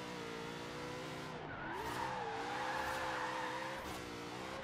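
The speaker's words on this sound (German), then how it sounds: "Und er geht gut quer, also lässt sich schön driften." Forza Horizon 3 car with a full body kit and roll cage slides sideways in a drift, its engine droning steadily while the tires squeal and skid in long, wavering screeches, loud and close.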